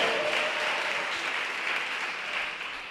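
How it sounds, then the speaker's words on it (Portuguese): A church congregation at a worship service gives a sustained round of applause for Jesus, dense continuous clapping from many hands that fades slightly toward the end, moderately loud. "pode aí dar uma salva de palmas para Jesus, glorificar o teu Senhor"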